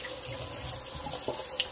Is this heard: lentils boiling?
no